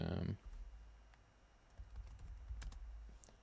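Keys tapped on a computer keyboard in scattered light clicks after a short burst of talk, quiet and close.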